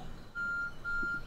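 A timer in the Stardew Valley video game beeps twice, two sustained electronic tones of equal pitch separated by a short gap, clean and alone.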